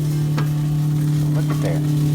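Lamb chops on a propane grill outdoors, a continuous close sizzle over a low steady burner hum, with a few faint crackles and pops.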